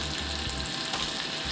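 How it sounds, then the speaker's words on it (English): Pork chorizo burgers fry in a hot, greasy pan, giving a steady close sizzle and crackle with no talking, just an even bed of frying noise throughout. "And now we continue to cook. Now that we flipped the burgers, we're also gonna put the shrimp on."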